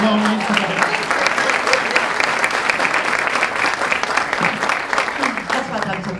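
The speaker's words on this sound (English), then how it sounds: "Ladies and gentlemen, the person who's speaking to me and interviewing me, please give a warm round of applause." Warm, dense applause from an audience at a book launch in Addis Ababa, sustained loud clapping filling the room for several seconds, with faint voices mixed in.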